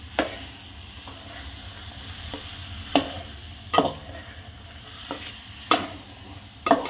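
Vegetables for veg pulao are stirred in a sizzling pan, with sharp scraping strokes every second or so over a steady low frying hiss; no one speaks.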